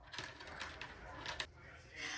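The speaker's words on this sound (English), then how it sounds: "I might just use my sewing machine and stitch it close." Quiet, continuous mechanical whirring and ratcheting from a home sewing machine stitching the opening of a soft fabric sensory block closed, steady with slight rhythmic clicks and no talking.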